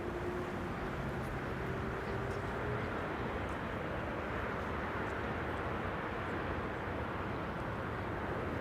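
Emirates airliner departing Schiphol airport, a steady broadband jet roar rumbling throughout at moderate distance, no voices.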